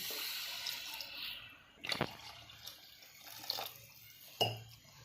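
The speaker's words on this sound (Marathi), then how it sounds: "दीड तांबे पाणी टाकलेलं आहे" Water poured from a small vessel, about one and a half potfuls, into a cooking pot for prawn biryani, making a few faint splashing gushes with light clanks between quieter stretches and no talking.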